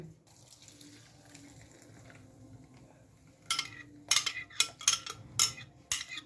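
Ground red chilli paste is poured through a strainer in a home kitchen to drain out the seeds; after a few quiet seconds come repeated wet splashing and sloshing bursts, close and fairly loud.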